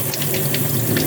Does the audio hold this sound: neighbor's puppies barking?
no